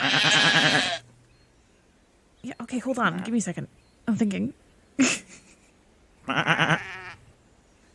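A sheep bleats in several separate calls, near and loud, with a long opening bleat and later wavering cries, while a person talks in between.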